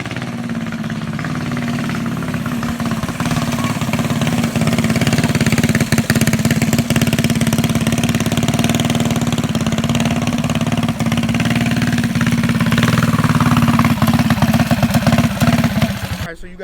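A mini bike engine runs steadily and loud throughout as it is ridden, a constant buzzing drone with slight throttle wavering, ending abruptly.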